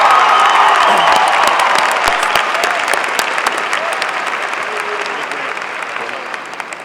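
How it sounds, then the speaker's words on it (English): Loud applause and some cheering from a high school graduation crowd honoring state track finalists, a dense, close roar of clapping that starts strong and slowly tapers over about seven seconds. "Please give Andrew, Danny, Montel, and Jonathan a round of applause."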